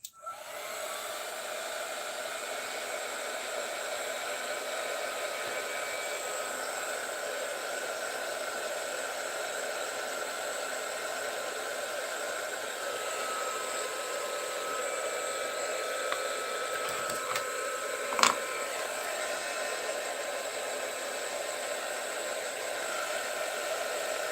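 Heat tool blowing hot air to dry ink on a papercraft flower project, a loud continuous whooshing hum running for over twenty seconds, with a brief click near the end.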